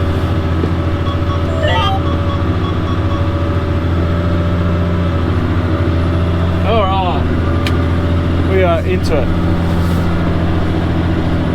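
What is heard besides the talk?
tractor engine running while seeding canola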